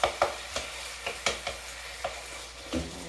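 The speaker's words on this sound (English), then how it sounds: "You hear the sizzle?" Chicken for kung pao sizzles in a hot pan while being stirred, with several sharp scraping clatters of a utensil spaced irregularly against a steady frying hiss.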